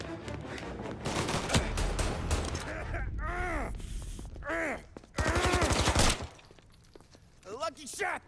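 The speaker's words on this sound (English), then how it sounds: "A lucky shot, Tom." Gunfire erupts in a shootout in the video game Mafia Definitive Edition, dense bursts of shots and impacts with shouting voices and game dialogue mixed in.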